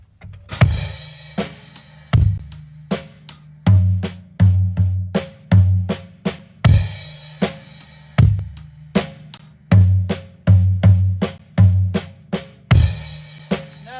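Rapid drum kit paradiddle inversion fills in repeating patterns, sharp hits with low tom thuds, played solo and close, in quick bursts with short pauses between phrases.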